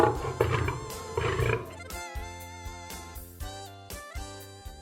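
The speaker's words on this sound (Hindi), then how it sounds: "शेर," A lion roars in a children's lesson about wild animals, a faint, drawn-out growling call with rising and falling tones and no talk over it.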